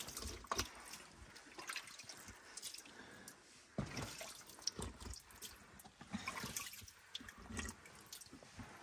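Water trickles and drips from a spring inside Kahak cave, faint and close, with irregular splashes and drops scattered over a quiet, echoing background.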